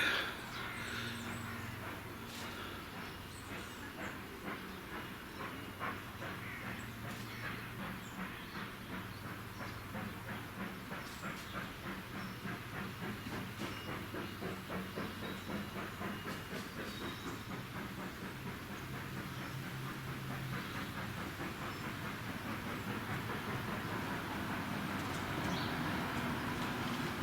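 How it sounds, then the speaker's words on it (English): A train rolls out of Watchet station, its rhythmic clickety-clack of wheels on rails steady over a low rumble and faint hiss, lasting throughout. "That's a train leaving WATCHET station."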